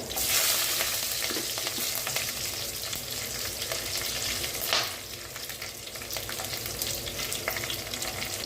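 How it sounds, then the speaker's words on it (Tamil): Garlic, mustard seeds and curry leaves fry in hot oil with a steady, dense sizzle that carries through the whole stretch, plus a few crackles and faint stirring. No one talks. "பூண்டு நல்லா வதங்கி வரட்டுங்க"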